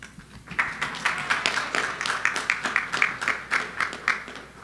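A conference audience applauds steadily, with many hands clapping together in a continuous patter for several seconds.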